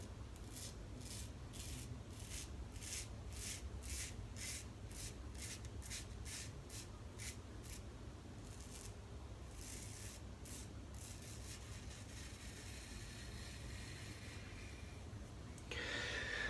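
A razor drawn through two days of head stubble lathered with shave soap, repeated short rasping strokes, close and quiet, the rhythm loosening toward the end.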